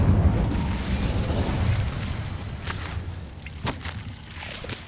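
Incendio fire spell blasting in Hogwarts Legacy, a loud rumbling burst of flame with a deep roar that slowly fades, followed by a few faint crackles and light clicks.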